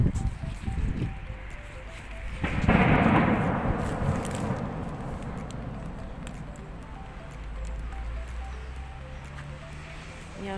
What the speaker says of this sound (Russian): Неожиданно начался дождь